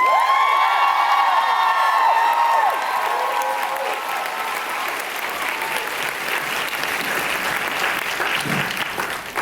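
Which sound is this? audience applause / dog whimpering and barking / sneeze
audience applause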